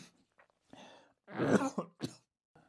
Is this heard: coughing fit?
yes